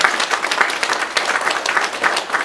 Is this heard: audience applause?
yes